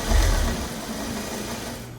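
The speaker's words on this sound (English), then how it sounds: "put your needle down and just keep going a 1/2 inch" A sewing machine stitches an envelope-style pillow cover, its motor running in a close, steady whirring hum that is loudest at the start and continues evenly throughout.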